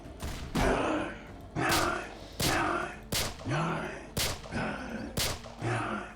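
Repeated pistol shots in a Roblox zombie game come in a loose rhythm of about six punchy bursts, loud and close, with someone speaking French and grunting between them.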